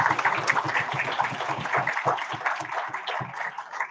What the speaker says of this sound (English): let's give a big round of applause for them